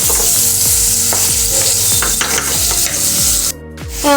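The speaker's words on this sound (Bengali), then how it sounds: "পেঁয়াজগুলোকে ব্রাউন করে ভেজে নিতে হবে।" Onions sizzle loudly as they fry brown in a hot pan over medium flame while a utensil scrapes and stirs at regular intervals; the sizzle briefly cuts out near the end.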